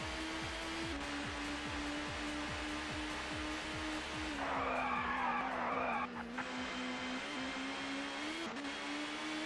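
Race car tyres skid and squeal under late braking into a corner in the ToCA Touring Car video game at Donington Park, a loud screech lasting about two seconds over a steady revving engine with rapid gear-change pulses.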